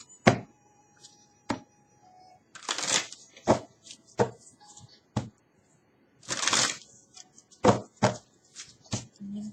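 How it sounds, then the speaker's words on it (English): Tarot cards are shuffled in close, crisp bursts of riffling and flapping, broken up by sharp taps and thumps as the deck is squared on a surface. "Let me just shuffle for a little bit, and then we ask questions."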